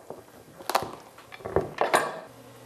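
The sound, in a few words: knife cutting into a hard pumpkin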